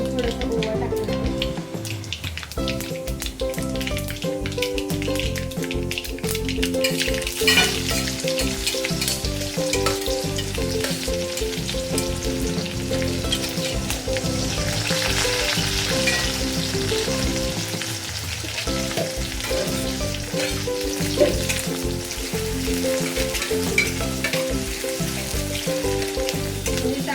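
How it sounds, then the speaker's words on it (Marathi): Mustard seeds, cumin and a little ajwain sizzle in hot oil, a loud, dense, unbroken frying hiss with popping crackles running throughout, up close. "तेलामध्ये मोहरी, जिरे आणि थोडंसं ओवा टाकणार आहे."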